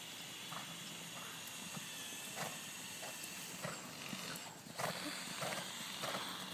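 Horse trotting in a dressage arena, with soft rhythmic hoofbeats at a regular pace under a constant hiss, faint and somewhat distant.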